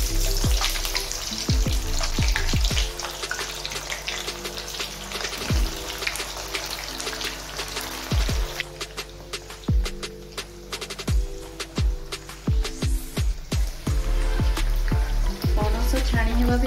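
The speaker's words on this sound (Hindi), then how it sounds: "प्रथमे पणस को तेल रे पकेबे।" Jackfruit pieces frying in hot oil, a dense continuous sizzle with crackles and sharp pops scattered throughout, close and loud, no talking.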